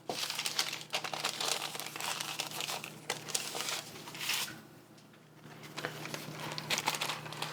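Parchment paper crinkles and tears as sticky apple cider donut dough is peeled off it, with bursts of close, dry rustling that pause briefly midway and then resume.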